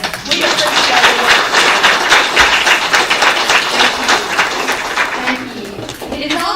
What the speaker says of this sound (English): Now please stand and let us do you a round of applause